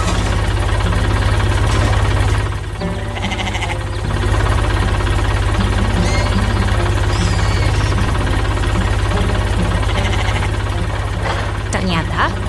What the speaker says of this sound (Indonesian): Ternyata, sebuah truk derek kuning yang perkasa datang untuk memberikan pertolongan.